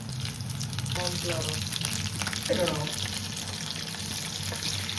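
A potato snack deep-fries in oil until crisp and golden, giving a loud, steady bubbling sizzle throughout, with faint voices briefly in the background.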